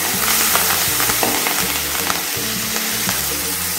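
A single green chilli and curry leaves sizzle in hot frying oil while mint chutney is being cooked. The frying is loud and steady, with a dense hiss and occasional soft stirring scrapes.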